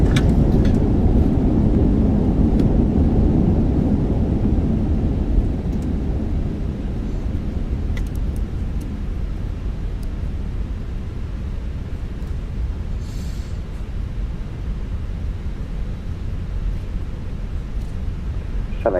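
A Jet2 Airbus A321 braking on its landing rollout at Bergen, heard from the cabin. A loud, broad rumble and roar fades gradually to a steady lower drone.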